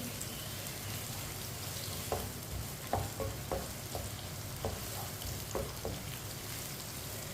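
Onions frying for aloo pulao while a spoon stirs them in the pan: a constant close sizzle with several sharp scrapes and taps of the spoon against the metal, no voices.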